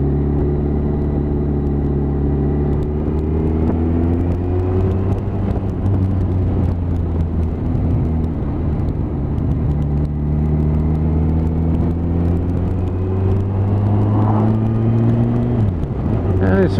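A motorcycle cruises home on winding back roads at night, its engine a loud, continuous low drone with wind noise. The pitch rises and falls with the throttle and drops sharply near the end.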